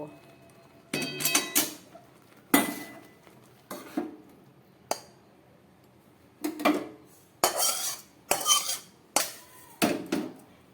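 Cooked rice and lentils being scraped out of a wok, with repeated loud metallic clanks and scrapes of a spoon against the pan in separate bursts, close and without talk.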